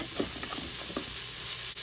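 A spoon stirs a rice, onion and tomato mixture in a rice cooker, giving soft scraping strokes over a faint steady hiss, ending with a brief knock; no speech.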